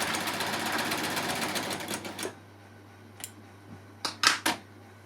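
A Baby Lock sewing machine stitches a lap seam through a folder: a fast, even run of needle clatter for about two seconds, then stops, followed by a few separate mechanical clicks, close up with no talk.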